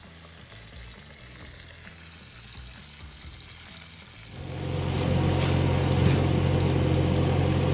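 A low mechanical hum, then a loud continuous sizzling crackle of flour-dredged silver carp frying in hot oil in a pan, steady and close.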